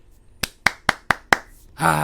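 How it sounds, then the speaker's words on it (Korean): Several distinct hand claps in support of two trot contestants, five sharp evenly spaced strikes, close and fairly loud, ending in a brief burst of broadband noise. "두 분에게 응원의 박수를 보냅니다"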